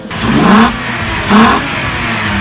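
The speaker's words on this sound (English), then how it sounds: "It is the offset banks of cylinders that gives the engine its unique sound." A Volkswagen VR6 engine revs twice in quick succession, each sharp rise in pitch settling back to a throaty idle, loud and close.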